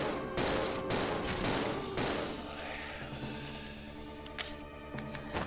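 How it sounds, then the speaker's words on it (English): Several heavy Magnum revolver shots ring out in Resident Evil Zero, loud booming reports packed closely together in the first half and then fading into lingering reverb, no talking. "I should just use the Magnum on these guys."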